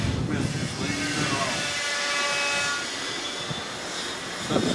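A car engine cranking and running, with a rough rumble and a harsh mechanical tone that rises as the throttle is touched, loud and near, with a knock from the rods or wrist pins; voices talk over it.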